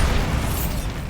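A Bombarda blasting spell from Hogwarts Legacy goes off as one loud, dense burst of low rumble and crackle that fills the whole short moment with no talk.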